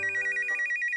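A telephone rings indoors in repeated short double bursts of a bright electronic bell, steady and fairly loud, with no voices over it.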